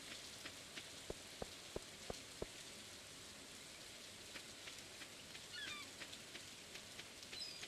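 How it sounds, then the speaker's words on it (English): Steady rain ambience from Stardew Valley, a soft continuous patter on the ground with a few sharp drip ticks early on and faint chirps of birds in the background. "I'll leave you guys at least with the nice, rain sounds"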